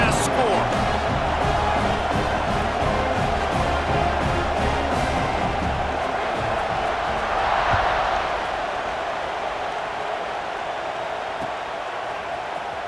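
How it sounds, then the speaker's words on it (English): A large stadium crowd in EA Sports College Football 26 keeps up a loud, steady buzz after a score, with a commentator talking over it before the noise eases a little toward the end. "this crowd is buzzing after that last score."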